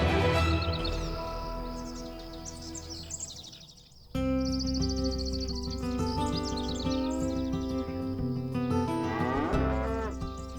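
Sheep bleat on a family farm being rebuilt: several drawn-out, quavering calls one after another, with faint bird chirps in the background.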